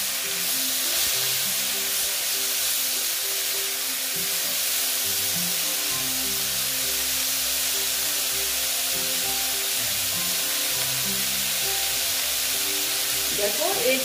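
Young jackfruit frying in a pan with turmeric, a dense steady sizzle throughout with faint stirring and a low hum underneath.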